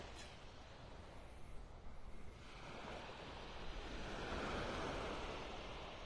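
Ocean surf rolls onto the beach at Delnor-Wiggins in North Naples, Florida, a continuous broad wash that swells louder toward the end, mixed with gusty wind noise on the microphone.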